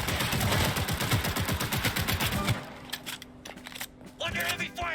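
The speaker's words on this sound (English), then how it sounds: "Under heavy fire!" Loud rapid machine-gun fire rattles in quick bursts in the video game Cyberpunk 2077, then cuts to a quieter stretch with scattered shots and a voice.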